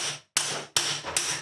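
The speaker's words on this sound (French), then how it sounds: "Quelques petits coups de marteau pour être sûr d'être bien dans le fond de la tête." A hammer strikes during clutch and starter freewheel work on a BMW K75 motorcycle. Three sharp, loud metallic taps land at even intervals, each with a short ringing decay.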